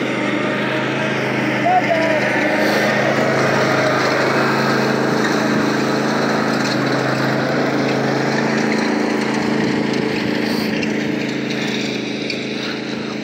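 A lawn aerator's small engine runs steadily throughout, a close, continuous droning hum with constant loudness.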